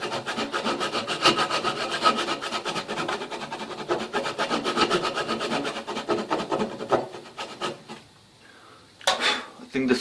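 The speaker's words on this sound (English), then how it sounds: "I'll just continue sawing until I get to my desired depth." A hand saw cuts into a cypress wood vessel in steady rapid rasping strokes for about eight seconds, then stops, leaving brief quiet before a couple of final scraping strokes.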